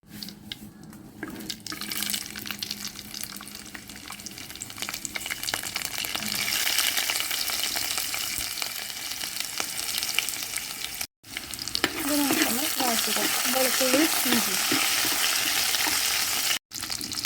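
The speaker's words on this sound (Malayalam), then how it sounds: "ഈ സവാള ഒന്ന് വഴറ്റിയെടുക്കാൻ വേണ്ടിയിട്ടാണ് നമ്മൾ ഈ എണ്ണ ഒഴിച്ചു കൊടുക്കുന്നത്" Onion sautéing in oil in a pan for chickpea curry, a steady close sizzle running throughout with brief breaks and some stirring scrapes, no voices.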